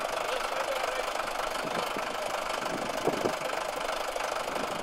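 A tractor engine runs with a steady, rough mid-pitched drone and some knocking, fairly close and continuous, with no clear talk over it.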